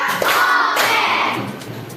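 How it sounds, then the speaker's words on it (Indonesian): A group of students claps together in a classroom during a counted clapping game, producing a few loud, close bursts of claps in quick succession. "kita tepuk tangan sama-sama yuk"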